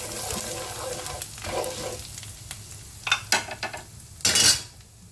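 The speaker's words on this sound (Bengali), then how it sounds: "আদা ভাজা ভাজা হয়ে গেছে, এরপরে অ্যাড করে দিলাম হলুদ" Ginger fries in a pan with turmeric added, giving a steady soft sizzle with a few sharp clinks and scrapes of a spoon against the pan toward the end.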